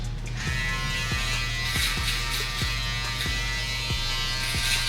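Electric shaver foil running steadily while trimming stubble on the neck, a continuous close buzzing hum with repeated light strokes as the head passes in different directions.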